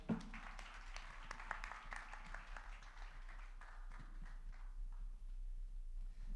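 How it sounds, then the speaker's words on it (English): Sparse, thin applause from a small audience at a mental health business conference session, faint and scattered clapping that thins out toward the end. "Let's give them a round of applause, shall we?"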